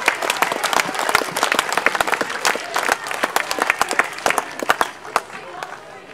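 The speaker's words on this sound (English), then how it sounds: "Final round of applause for Eastern." A round of applause at a school district tournament prize-giving, loud sharp claps from a crowd of boys and spectators, dense and uneven, thinning slightly toward the end.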